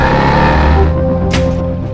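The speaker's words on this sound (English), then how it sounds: "The powerful 571 horsepower are transferred perfectly to the drive shaft when shifting gears." A Mercedes SLS AMG with 571 horsepower and a double-clutch transmission shifts gears: a loud, steady, humming engine tone carries through a brief sharp burst partway through, then settles slightly quieter.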